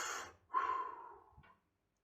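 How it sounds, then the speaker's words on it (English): A single deep breath during a guided meditation, close and soft: a short exhale, a brief pause, then a long, slow breath that trails off into silence. "And take a deep breath."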